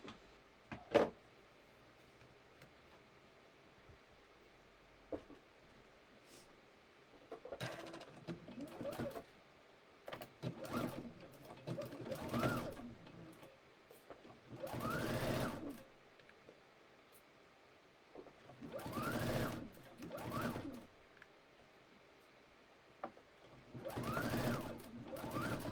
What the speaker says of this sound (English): I'll stitch that seam.